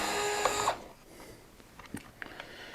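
A cordless drill driver on a light torque setting spins screws into the plastic lower arm parts of a Traxxas X-Maxx RC car: a short, fairly loud whirring burst, then quiet clicks and handling noises.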